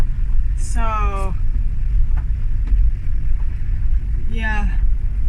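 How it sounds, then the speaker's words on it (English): Low road rumble and wind noise fill the cabin of a working car driving with its windows open, steady and loud throughout, while a person briefly speaks twice. "the noise is way more inside the car than it is on the other car"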